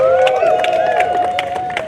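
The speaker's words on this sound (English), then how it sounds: "Clap that up again, y'all." A rally crowd claps and cheers in short, loud bursts, with voices calling out over the dense applause throughout.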